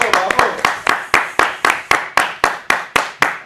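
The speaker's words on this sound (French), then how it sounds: "On vous l'applaudit encore." An audience claps for the actors in a steady, rhythmic beat of about a dozen loud, close claps, sharp and evenly spaced, with no talk over them.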